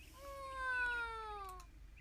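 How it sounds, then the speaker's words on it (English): A cat gives a single drawn-out meow, clear and fairly close, rising then sliding down over about a second and a half in a quiet room. "Sounds like a cat to me."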